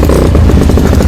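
A motorcycle engine starts and runs loud and close, its rough, steady idle rumble filling the moment with no talk over it.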